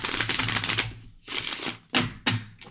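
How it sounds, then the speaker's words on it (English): Angel card deck shuffled by hand, several quick riffling bursts of stiff cards close to the listener, separated by short pauses, with no talk. "Let's shuffle."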